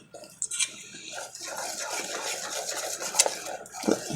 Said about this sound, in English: So we're going to whisk this up.